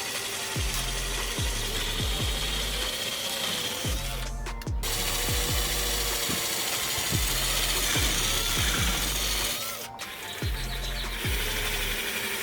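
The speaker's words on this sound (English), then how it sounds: "So I ended up just drilling 4 holes" A power drill bores screw holes for carbon fiber side skirt extensions on a BMW F30 M-Sport, giving a close, whirring mechanical grind with a rapid repeating pulse and two brief pauses.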